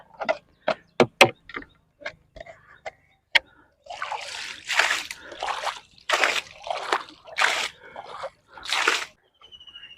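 Water splashes and sloshes into a container holding freshly net-caught fish, starting with a few sharp drips and splats, then several longer pouring bursts of splashing in quick succession, close and clear.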